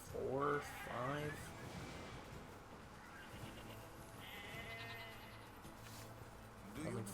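Sheep in the video game Nier Replicant give a couple of short wavering bleats at the start, then quieter ambient sound and a faint bleat near the end, with a person talking over it.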